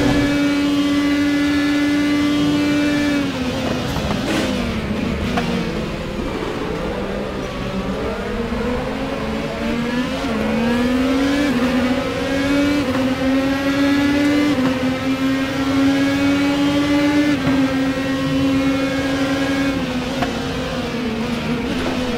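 A race car in the RaceRoom racing game powers out of a hairpin with maximum downforce, its engine note sliding up through the revs in long, steady pulls and shifts, loud and close, with no talking.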